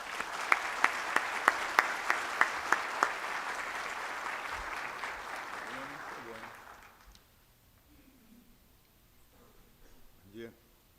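Audience applause welcoming a speaker at a talk, steady clapping from a crowd that fades out after about seven seconds into quiet room noise with faint murmurs.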